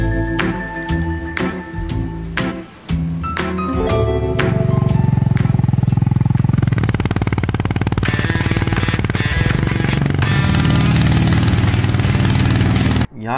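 A Honda H'Ness motorcycle engine runs loud and close with a dense, steady rumble that fills most of the clip, preceded by a few seconds of sharp tonal hits.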